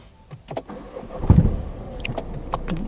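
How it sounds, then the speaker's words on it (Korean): A used car's engine is cranked and started, a short burst of low rumble near the middle followed by a steady quieter running hum, with small clicks and knocks around it. "그럼 시동 한번 걸어보자고."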